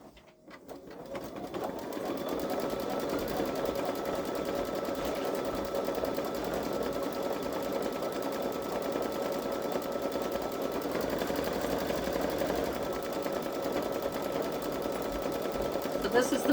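A Babylock Solaris embroidery machine stitches out a forest design with a rapid, even mechanical chatter that starts up and runs continuously at close range, alone without talk.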